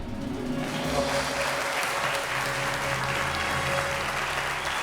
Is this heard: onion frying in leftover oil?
no